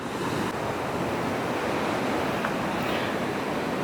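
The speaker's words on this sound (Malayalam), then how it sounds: "കടലിൻ്റെ തിര വരുന്ന ഒരു പവറുണ്ടോ എവിടെ നിന്നൊക്കെ അടിക്കണേന്ന്" Sea waves surge and crash against the rocks at Aazhimala in a loud, continuous roar of surf heard up close, with wind buffeting the microphone and no voices.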